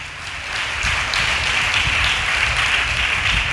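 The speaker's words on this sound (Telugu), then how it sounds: "చప్పట్లు కొట్టండి గట్టిగా." A congregation clapping loudly together during a Sunday church service, a dense, continuous patter of many hands that starts quietly and quickly builds to full volume.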